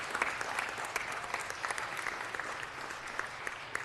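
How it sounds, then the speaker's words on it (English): Applause at a city council meeting, a steady crackle of many hands clapping with sharp individual claps standing out, moderately distant and continuing for a few seconds without talk. "Let's give her a round of applause."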